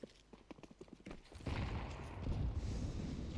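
A Counter-Strike match: a quick series of sharp gunfire taps gives way to a loud, sustained rushing burst like grenades going off. A faint voice sits low in the mix.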